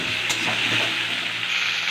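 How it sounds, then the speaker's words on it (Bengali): Chopped ridge gourd, potatoes and onion fry in a pan, giving a continuous sizzle with soft stirring scrapes and a clack or two close by, without any voices. "আলুটাও ভাজা হয়ে গেছে, কেটে রাখা ঝিঙে দিয়ে দেবো।"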